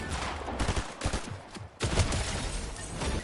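Shotgun blasts in the video game 100 Drops on the Frigid Fortress map: a quick cluster of sharp, loud reports followed by a heavier burst of fire.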